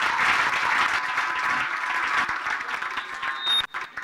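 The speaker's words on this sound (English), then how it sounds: "surely they deserve a bigger hand clap" An audience applauds at a Rotary District 9213 homecoming celebration, with dense, sustained clapping from a crowd that holds steady and then thins out near the end.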